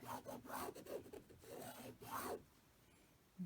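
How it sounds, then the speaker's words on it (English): A marking tool rubs in quick scratchy strokes across quilting fabric, drawing a straight sewing line on a half-square triangle block. The close, dry rasps come in a few bursts, then fall quiet. "let me go ahead and mark this one straight down here for my sewing line"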